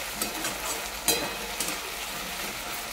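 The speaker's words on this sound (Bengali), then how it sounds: "দেখেন পেঁয়াজ আলু এইভাবে আমি ভেজে নেবো" Onion and potato frying together in a pan give a steady, soft sizzle with a few brief stirring scrapes.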